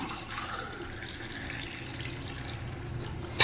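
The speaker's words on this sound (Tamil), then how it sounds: "இப்போ வந்து நம்ம அளவு தண்ணி ஊற்றிக்கலாம்" Steady running water pours continuously onto washed broken rice, a soft splashing stream close by with no voices.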